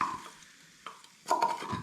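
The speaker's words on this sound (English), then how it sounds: "this is not the best pan for frying tofu" Tofu frying in a pan that is not well suited to it, giving a quiet sizzle with occasional stirring and scraping clatter, louder bursts toward the end.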